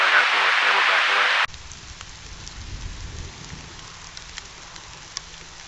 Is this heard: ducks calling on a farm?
no